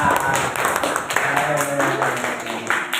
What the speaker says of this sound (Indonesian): Kita berikan aplaus untuk Mbak Dila